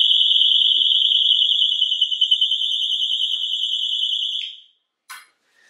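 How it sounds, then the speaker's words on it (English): A loud, piercing electronic burglar alarm wails steadily at close range, warbling slightly, then cuts off abruptly, followed by a brief high chirp. "it will think it's a burglar and set the alarm off"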